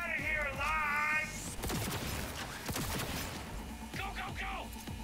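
Player's gun firing in Cyberpunk 2077, a rapid burst of sharp close shots with crashing impacts, preceded by a sustained tone and followed by further shots and brief sounds.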